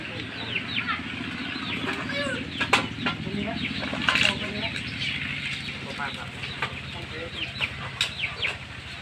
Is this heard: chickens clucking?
yes